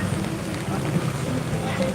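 Steady rain falls on an evening street market in Nonthaburi, Thailand, making a continuous even hiss that fills the clip, with faint voices in the background.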